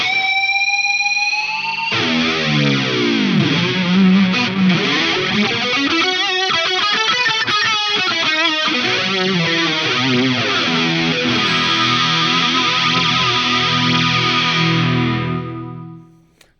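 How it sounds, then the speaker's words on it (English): Electric guitar through a Line 6 Pod Go with heavy reverb, delay and chorus rings out in a swirling, echoing wash of sustained notes that fades at the end, with no talking. "And then D is a very reverbed and delayed chorus sound."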